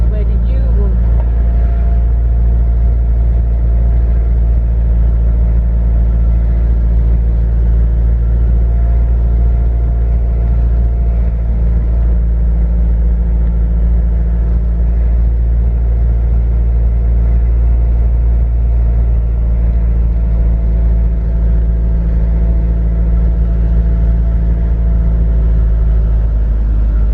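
A car cruises along a road around a lake at Lake Vyrnwy, a nature reserve in Wales, with a constant low engine and road rumble throughout and voices faintly beneath.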